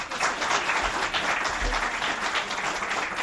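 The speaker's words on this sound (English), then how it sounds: "I think that we all owe a round of applause to our panelists here." A crowd applauds panelists at a health care modernization forum, steady dense clapping filling the room at close range with no talk over it.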